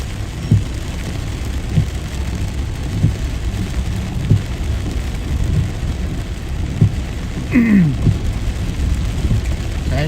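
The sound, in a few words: rain falling outdoors in Chiang Mai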